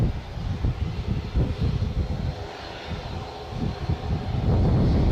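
A Boeing 757 airliner departing Edinburgh airport, a loud continuous engine roar heard from a distance with wind buffeting the microphone and the rumble swelling toward the end.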